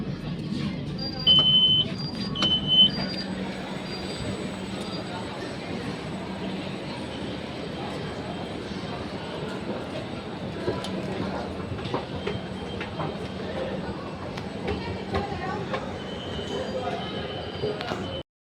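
A metro train pulling into a station, a steady rolling rumble and wheel noise throughout with a few short electronic beeps and tones near the start, voices faintly mixed in.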